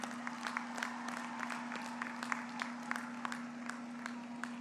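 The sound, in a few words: applause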